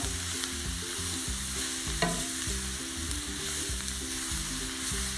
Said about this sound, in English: give it a nice stir, let this cook down a little bit more